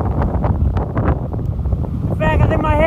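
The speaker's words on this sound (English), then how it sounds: "It's really windy up here." Strong wind buffets the microphone at a Death Valley overlook above Marble Canyon, a constant low roar under a person's voice, which turns clearer near the end.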